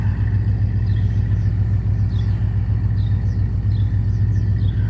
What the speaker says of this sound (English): You can hear the old car running.